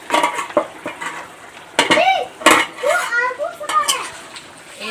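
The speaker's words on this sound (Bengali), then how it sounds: "ঢাকনাটা খুলে দেখো।" A metal lid lifts off a pot of chicken curry gravy with a couple of sharp clanks and ringing scrapes, followed by brief clinking, close and fairly loud.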